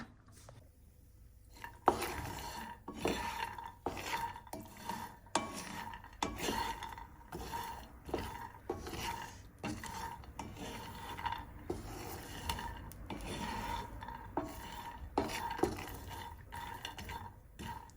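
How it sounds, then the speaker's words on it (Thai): Dense, rapid crackling and popping with scraping as peanuts roast and burst in a hot pan, steady throughout at close range. "แตกออกมาแล้วก็ดังป๊อกแป๊กป๊อกแป๊กนะคะ"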